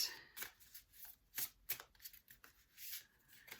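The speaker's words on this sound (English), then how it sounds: "We'll give them a shuffle as we always do." A deck of oracle cards being shuffled, with several crisp riffling bursts separated by short pauses, close by and alone without speech.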